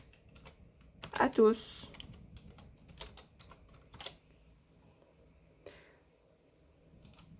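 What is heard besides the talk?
typing text on a computer keyboard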